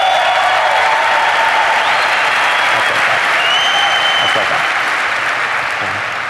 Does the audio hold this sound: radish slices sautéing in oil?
no